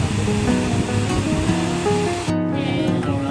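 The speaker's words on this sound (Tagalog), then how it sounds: "I-admire lang namin ng konti yung itsura ng falls." A waterfall in Taiwan roars as a dense, steady rush of falling water, loud and close, with music playing over it until it cuts out near the end.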